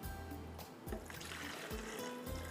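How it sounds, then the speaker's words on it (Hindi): Water is poured into a blender jar holding boiled moong dal, a steady close trickling and splashing liquid sound running continuously without speech. "इसमें थोड़ा सा पानी डालेंगे"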